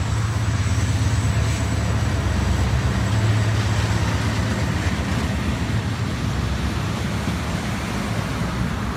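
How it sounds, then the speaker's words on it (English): A continuous loud rumble of a passing light rail (LRT) train in Kuala Lumpur fills the whole stretch, steady and close, with a faint low hum at the start. "Okay, it's an LRT passing."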